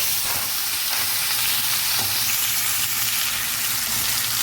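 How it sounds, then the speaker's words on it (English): Mincemeat and tomatoes cooking together in a pot on a home stove, a steady close sizzle and hiss with faint scraping as the mixture is stirred, no voices. "I'm now adding in my mincemeat into the pot. And let's just turn everything all around."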